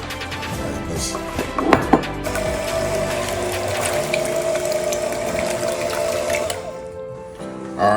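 A blender runs on banana pudding ingredients with a busy mechanical whir and a steady hum, with a couple of sharp knocks early on, and it winds down near the end.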